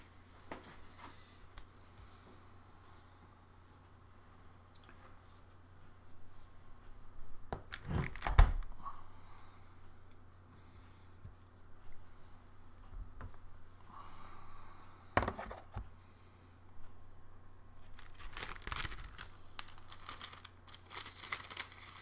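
Sheets of paper crinkled, crumpled and torn while making a handmade Mother's Day card, heard in a few short, loud rustling bursts near the mic, separated by stretches of quiet room tone.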